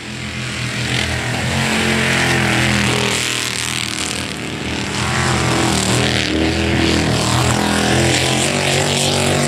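A loud, high-revving racing boat engine roars steadily throughout, with a harsh buzzing drone that swells and dips slightly.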